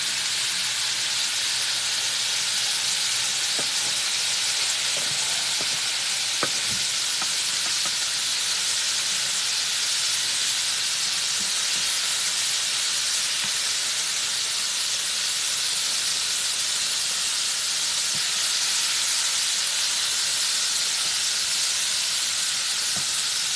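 Chicken livers fry in a hot pan, an even, loud steaming hiss that runs unbroken, with a few faint sharp pops scattered early on and no voices.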